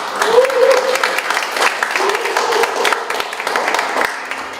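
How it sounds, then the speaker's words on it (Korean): A crowd applauds steadily at a Korean security policy forum as a speaker is introduced, a dense wash of clapping hands that continues throughout. "큰 박수로 맞이해 주십시오."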